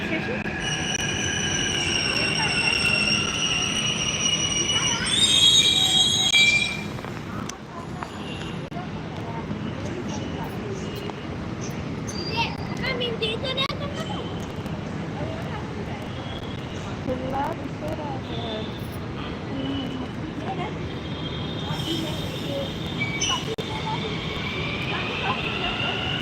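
A metro train pulls into Peddamma Temple station, its wheels letting out high squeals early on and again near the end over a steady rumble, with voices talking nearby.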